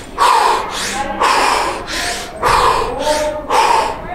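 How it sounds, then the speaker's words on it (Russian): Heavy rhythmic breathing during a kettlebell sport exercise, four loud, close inhale-exhale cycles paced evenly about once a second, each a rushing breathy burst with no talk. "Это вот такой легкий комплекс дыхания, да, когда мы делаем вдох, выдох, вдох, выдох."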